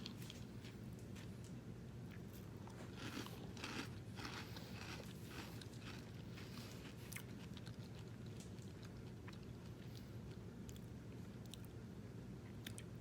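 Dry frosted Magic Spoon keto cereal is bitten and chewed up close, giving a run of quiet crunchy, crackling bites over a steady low background hum, with no talking.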